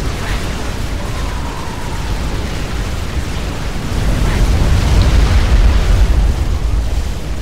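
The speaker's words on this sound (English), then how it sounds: "Oh no, flak." Flak fire in the Supreme Commander strategy game makes a dense, noisy rumble of continuous explosive bursts. It swells louder past the midpoint and stays steady without clear gaps.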